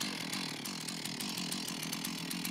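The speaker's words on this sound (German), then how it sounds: "die Säge erst von unten und dann von oben in den Stamm treibt" A chainsaw cuts into a tree trunk during a rural competition course, a continuous buzzing engine whine with rasping cutting noise, heard at a moderate distance and fairly quiet.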